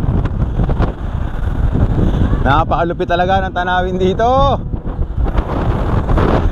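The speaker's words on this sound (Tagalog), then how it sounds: "Sobrang lakas ng hangin dito." Strong wind buffets the microphone at the Parang Hills viewpoint in Dilasag, a steady loud roar that runs the whole time, with someone talking excitedly over it.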